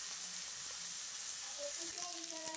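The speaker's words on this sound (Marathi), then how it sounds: "लसूण आणि कोथिंबीर बारीक करून कांदा टाकलाय भाजायला" Onion sizzling in hot oil with cumin, mustard seeds, garlic and coriander, a steady close hiss with faint crackles.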